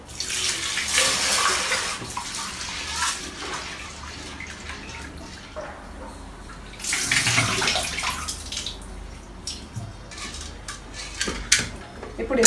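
Toor dal and chana dal are washed in water in a pressure cooker pot, with running tap water, swishing and metallic clinks of the vessel coming in two longer splashy stretches with quieter handling between them.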